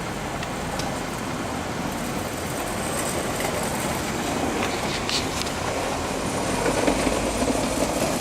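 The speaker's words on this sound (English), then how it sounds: "now we know the air ride works." The replacement air suspension pump of a VW Touareg runs as the vehicle lowers. It makes a loud, steady whirring hiss, close by and continuous, swelling slightly near the end.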